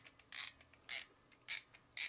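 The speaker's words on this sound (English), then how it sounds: "and then as you wind the camera," The film-advance wheel of a Cinestill 800T disposable camera is wound, producing four crisp ratcheting clicks in a steady rhythm, close up and quiet, with faint ticks between them.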